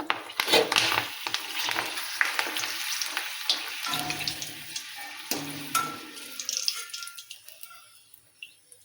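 Sun-dried masala chillies crackle and sizzle as they fry in hot oil, with bursts of popping spatter that thin out and fade toward the end.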